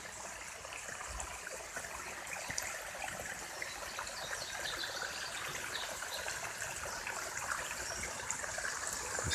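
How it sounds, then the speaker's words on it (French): A small waterfall deep in the woods, its steady trickling and splashing rushing along softly and evenly, no voices over it. "Donc je vous présente une petite cascade."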